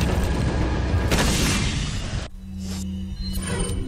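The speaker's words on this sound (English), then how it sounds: "Oh, flash grenade, not worth it." A flash grenade going off in Resident Evil 4: a loud, broad blast that fills the first two seconds and then cuts off abruptly into a low steady hum, with no talk.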